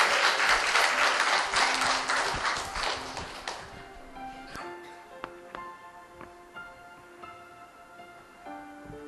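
Audience at a church youth camp applauds a student speaker being welcomed to the front, a dense burst of clapping for about three and a half seconds that thins into scattered claps and fades.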